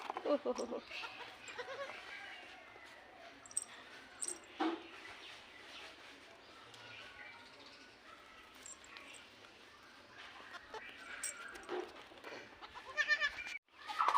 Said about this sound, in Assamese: ছাগলী কান্দিছে ছাগলী